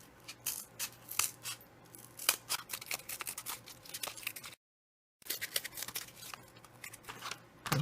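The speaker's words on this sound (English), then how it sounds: "Then I traced it on a piece of corrugated cardboard and I cut it out." Scissors snip a heart shape out of corrugated cardboard in quick, crisp, irregular cuts, close and fairly quiet, with a short silent pause partway through.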